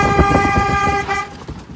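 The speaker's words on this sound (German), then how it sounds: "Ihr habt das Hupen zwischendurch auch schon mal gehört" A horn sound effect gives a steady, bright, multi-toned honk for about a second before cutting off, loud and close with no talk.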